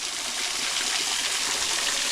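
Water pours steadily from a waterfall inside a cave, a dense continuous rush heard up close with no voices over it.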